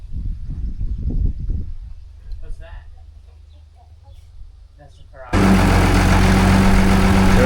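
A Ferrari engine kicks to life partway through, a loud steady roar that runs to the end, after a stretch of soft low idle and speech.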